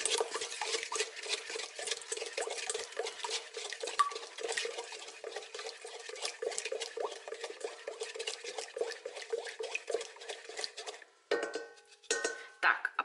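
Egg and egg yolk being mixed into vánočka dough ingredients in a bowl, a continuous quick patter of a utensil against the bowl that breaks into sharper separate clinks near the end.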